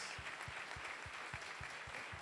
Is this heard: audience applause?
yes